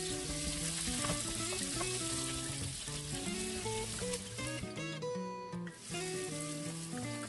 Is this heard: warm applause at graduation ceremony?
no